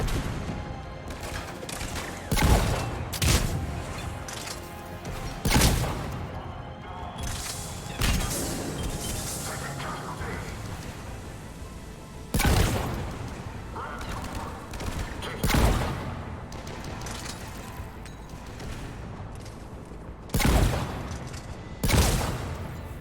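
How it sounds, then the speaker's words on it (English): Mass Effect shotgun blasts ring out in sharp, loud bursts, roughly a dozen widely spaced shots with echoing tails over a steady combat din, some coming in quick pairs. "Yep, the shotgun's good. Just destroying them."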